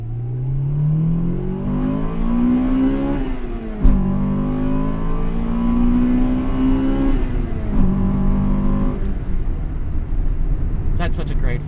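A 1998 Acura Integra Type R with its B-series engine revs hard through the gears, pitch climbing toward redline, dropping sharply at each shift and climbing again, loud from inside the car.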